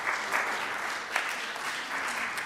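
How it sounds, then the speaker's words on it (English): Audience applause at a senior community gathering, a steady, close wash of many hands clapping with a few sharper claps standing out. "So let's give them a round of applause."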